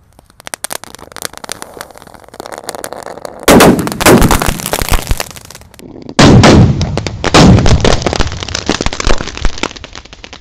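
A Roman candle 1.9 firework fires loud, close, sharp cracking shots in two bursts, each blast followed by fizzing crackle and rumbling echo, outdoors with no talking.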